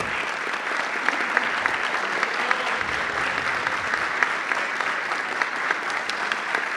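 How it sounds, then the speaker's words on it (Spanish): Conference audience at a labor-market panel gives sustained, even applause, a steady dense clatter of many hands in a hall without a break. "Un fuerte aplauso para Carlos"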